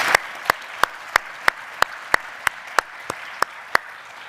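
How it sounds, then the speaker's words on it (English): A lone, steady clap repeats about every third of a second at a New York citizenship event, sharp and close against a quiet room, with no crowd swell behind it. "Round of applause for these two great leaders"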